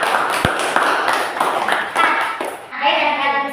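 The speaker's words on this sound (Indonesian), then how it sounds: "Tepuk tangan buat kelompok 3." Classroom applause for a student group, a scattered patter of clapping from children blended with overlapping chatter and voices throughout.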